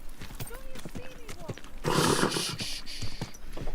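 Horse hooves clip-clopping in the medieval open-world game Kingdom Come: Deliverance 2, with a burst of louder rustling motion midway; a voice talks over the steady hoofbeats, and a faint whinny may be mixed in.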